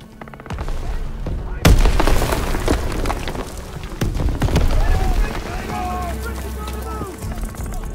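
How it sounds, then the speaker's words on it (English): Grenade blast in the WWII shooter Call of Duty WW2 during a Normandy bunker assault: a sharp loud burst near the start amid continuous gunfire and battle noise, with shouted voices over the chaos. "Daniels, get a grenade in that bunker!"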